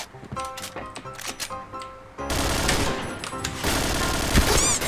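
Rapid gunfire bursts crackle in a PUBG match, first sharp separated shots, then a louder, denser stretch of sustained automatic fire filling the second half.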